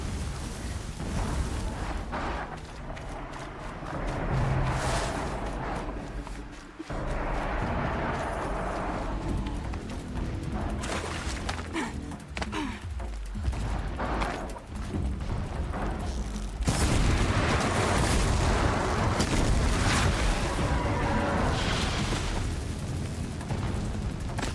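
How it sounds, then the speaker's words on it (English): Distant explosions rumble in Horizon Zero Dawn on PS5, a dense, continuous roar of booms and bursts with shifting intensity over a long stretch and no talking. "Explosions in the distance."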